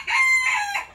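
A rooster crows nearby, one loud, sustained call lasting about a second, with a slight break in the middle, heard on its own.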